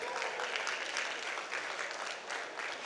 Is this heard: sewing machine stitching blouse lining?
no